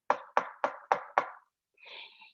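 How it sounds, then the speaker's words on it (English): Five firm knocks on a front door in a quick, even rhythm, loud and close, followed by a brief softer rustle; no talking. "can you knock with me again?"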